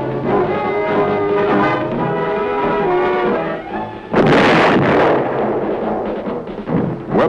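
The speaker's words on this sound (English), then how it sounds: "It permits firing at targets moving at various angles, ranges, and speeds" Heavy gun firing at moving targets on the Aberdeen proving ground range, a sustained rumbling roar followed near the four-second mark by a sharp, loud broadband blast that decays over the remaining seconds.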